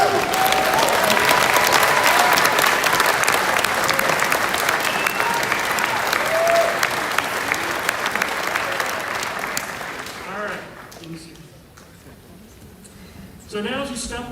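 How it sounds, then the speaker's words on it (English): Graduation audience at an NC State undergraduate ceremony giving sustained loud applause that fills most of the clip, then fades and a voice speaks briefly before clapping picks up again. "give them a hearty thank you and a round of applause"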